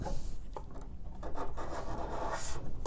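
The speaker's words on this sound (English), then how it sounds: "I'm coming back with a card scraper. I'm just gonna card scrape" A steel card scraper is drawn along the edges of a solid wood tabletop during refinishing, giving a steady, close scratchy rasp with short stroke bursts and no talking.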